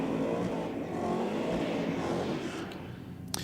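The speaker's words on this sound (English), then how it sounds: "Very aggressive sounding VF HSV down there." An HSV VF car roars down a drag strip at full throttle, a loud, dense, steady engine drone that fills the whole moment, with a faint click near the end.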